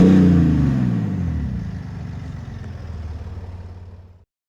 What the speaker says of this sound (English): I think it sounds very good for a diesel